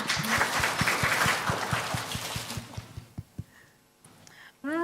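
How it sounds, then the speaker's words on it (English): Audience applause at a student symposium, a run of claps that fades out over the first three seconds, followed by quiet and a few scattered sounds. "We can give her a hand of applause."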